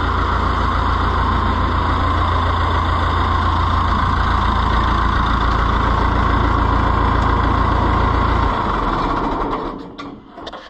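An Oliver 1365 tractor engine runs at a steady idle with a loud, continuous low rumble and mechanical clatter, then cuts off near the end and the sound fades away.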